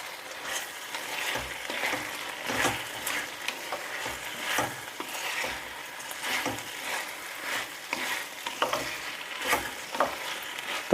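Potatoes and a green vegetable sabzi (suva greens) being stirred in a pan, with steady scraping strokes and a soft background sizzle, close and moderately loud, no talking.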